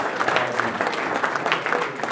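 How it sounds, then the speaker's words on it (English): Steady audience applause at a policy forum lunch keynote, a dense continuous wash of many hands clapping in a large room, fairly loud and even throughout with no talk. "let's give Dan a round of applause"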